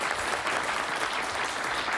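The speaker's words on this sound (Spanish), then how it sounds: "yo creo que esto merece un nuevo aplauso." Studio audience on a Spanish TV game show applauding steadily, a dense, even wash of clapping from a crowd at moderate level with no break, no speech over it.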